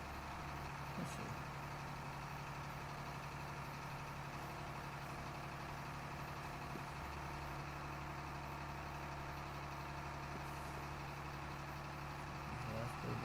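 Steady low tractor engine idle in Farming Simulator 25, a constant rumbling drone held throughout with little change, with faint game sounds over it.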